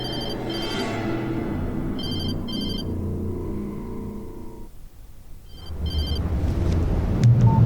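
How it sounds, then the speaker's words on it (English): A telephone rings with short electronic double trills inside a car in the video game Alan Wake, over an engine rumble that fades then returns louder. "She was startled by the phone."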